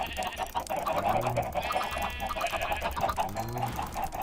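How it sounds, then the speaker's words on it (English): Minecraft chickens in a Material Energy^4 modpack, a crowd of clucks and honk-like fowl calls repeating over steady game background noise, with no talk. "we're going to breed all these chickens"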